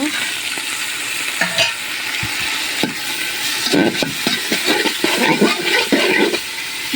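Pieces of washed beef fat go into a pot for khichuri and fry with a steady loud sizzle, broken by clanks and scrapes of a utensil stirring against the pot.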